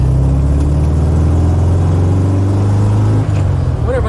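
A VW Type 3 car drives along the road, its steady engine hum and low rumble continuous and close throughout, with a brief shift in tone near the end.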